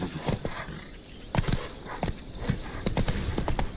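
Hooves of Geralt's horse Roach clop along at a trot in The Witcher 3, an even run of close, crisp hoof strikes with faint background game sound and no talking.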